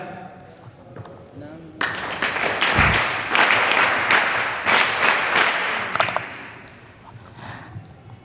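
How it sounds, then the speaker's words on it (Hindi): Audience of students at a Sanskrit school function clapping hands together, a loud dense round of applause rising abruptly and lasting several seconds before fading, with speech before and after. "सभी लोग एक साथ तालियां बजा करके अविनाश का धन्यवाद करें"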